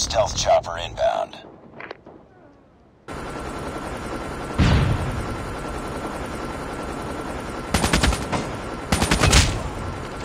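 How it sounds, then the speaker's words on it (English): Stealth chopper in Call of Duty Mobile, a steady rotor and engine drone under bursts of machine-gun fire and shots, with game voice announcements over the action. "Stealth chopper inbound."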